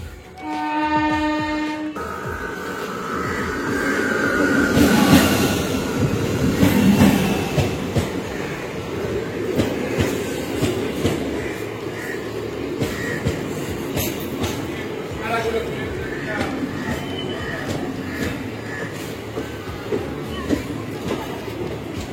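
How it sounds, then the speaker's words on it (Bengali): A train pulls into the platform at Bidhannagar station in India, a steady rumbling roar with rolling clatter building and holding throughout, while someone talks nearby over the noise. "ট্রেন আসুক, ট্রেনে উঠে আবার আপনাদের সঙ্গে কথা বলবো।"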